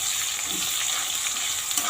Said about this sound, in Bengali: পেঁয়াজটা ভেজে তারপর এর মধ্যে মাংস ঢেলে দেবো